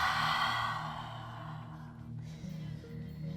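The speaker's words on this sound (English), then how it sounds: "Big breath in here to reset. Nice loud exhale." Loud, breathy exhale during a yoga flow, a single long rush of air fading over about two seconds, with a low steady hum of background music underneath.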